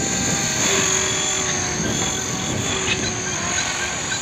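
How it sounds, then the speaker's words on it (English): Hobbyking RC model helicopter flying close by, a steady high-pitched rotor and motor whine with a constant buzzing drone held at even loudness throughout. "this is a great little helicopter."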